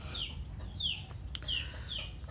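Chicken clucking in a morning garden: four short, descending calls in a quick even series, moderately near over a low steady background hum.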